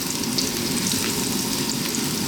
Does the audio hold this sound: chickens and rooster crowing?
no